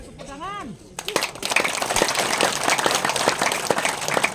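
Applause at a temple gathering rises as a dense, close crowd of clapping hands, with continuous overlapping claps filling the space after a brief sung or spoken tone.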